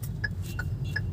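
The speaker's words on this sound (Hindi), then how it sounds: "लेफ्ट इंडिकेट दे दिया हमने" Left turn indicator of a Hyundai Nios ticking inside the car, a few sharp clicks at a steady, regular pace over a low engine hum.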